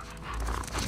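Dog panting in The Last of Us Part II, a short burst of quick, breathy huffs close up over a low game rumble, with no talking.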